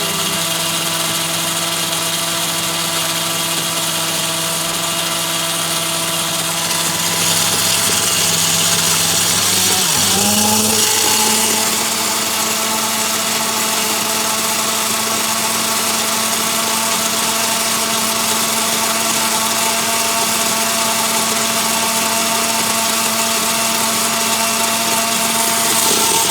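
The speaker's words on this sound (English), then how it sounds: "I'm using a regular Philips blender." A loud, steady motorized whir with a sharp mechanical pitch shift midway, a Philips kitchen blender grinding thick paste for prawn curry. No voices.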